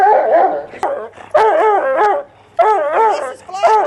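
A four-year-old coonhound mix barks, yips and whimpers excitedly at another dog in repeated close, loud bursts separated by short pauses.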